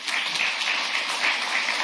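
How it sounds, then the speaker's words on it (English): A city council meeting audience applauds between public speakers, a steady, moderately loud patter of many hands clapping across the room. "it's ideal if we don't do applause in between speakers"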